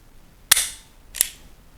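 A CZ P-07 pistol dry-fires twice onto a snap cap, its firing pin and spring giving two sharp metallic clicks about 0.7 seconds apart, close and crisp with a brief ringing tail, with no talking.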